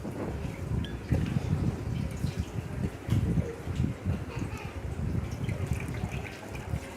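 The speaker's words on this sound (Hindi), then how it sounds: "अब हम इसे सेकंड टाइम वॉश करेंगे।" Cumin seeds are swished and rinsed by hand in a bowl of water, giving continuous close sloshing and splashing with small bursts of churning, steady in level throughout and with no talking.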